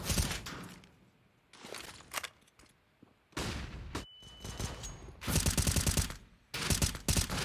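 Pistol gunfire in Counter-Strike on the Dust2 map during a professional match, with loud bursts of rapid shots broken by short pauses, dense and close, and no voices.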